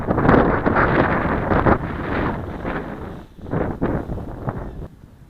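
Gusty wind on a windy day at an outdoor flying spot for an AXN Floater Jet model plane, buffeting the microphone in loud, uneven blasts that swell and drop, with no talking.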